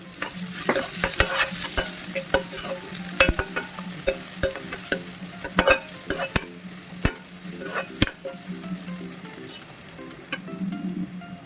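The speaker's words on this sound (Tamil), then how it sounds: "இதில் கொஞ்சம் உப்பு வெங்காயம் வதங்குறதுக்காக சேர்த்துக்கிறேன்" Onions with a pinch of salt sizzle in a hot pan as a spatula scrapes and stirs them, sharp clacks of the utensil over a steady frying hiss, close and clear with no talking.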